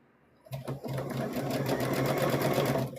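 A sewing machine stitches a stuffed bear through two fabric layers, starting abruptly after a brief quiet and then running at a fast, steady, close-up mechanical rattle until the end.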